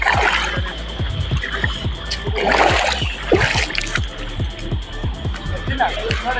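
Waterfall at Suna Kham in Keonjhar district, where water pours and splashes in a steady, loud broadband rush. It is heard close, with voices and rhythmic low thumps mixed in.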